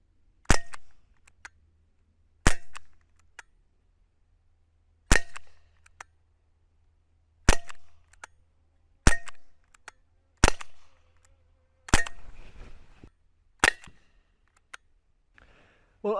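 An air rifle fires Kvintor flathead and phantom pellets at a target, each shot a sharp, isolated crack with a short decay, about nine shots spaced a second or two apart in a quiet setting.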